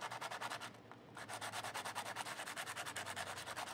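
Steady rhythmic sanding strokes with a sanding block on a segmented pen blank, a rasping scrub repeating back and forth with a brief pause near the start, close up with no talking.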